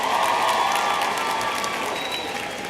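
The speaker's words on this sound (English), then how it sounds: "Let's have a round of applause for her." Commencement audience applauding the university president at York, a broad, sustained clapping mixed with some crowd cheering, loud and steady throughout and easing slightly at the end.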